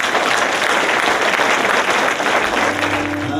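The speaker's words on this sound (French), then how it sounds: "Je vous demande de les applaudir." An audience at a festival applauds a trio with dense, steady clapping that stays loud and even for several seconds, and the first music notes enter faintly near the end.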